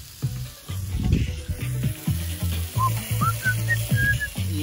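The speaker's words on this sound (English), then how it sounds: "Got some sausages on the go." Sausages sizzle over an outdoor campfire at a wild camping spot, a close crackling fry with repeated low thuds and scrapes and a few thin whistling squeals rising out of the fat, with no one talking.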